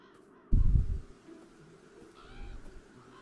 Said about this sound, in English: Wait, I heard the cat.